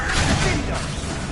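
Spell blasts from Confringo and Bombardo cast in Hogwarts Legacy combat form a loud, dense wash of rumbling, crackling noise that stays steady throughout the short burst.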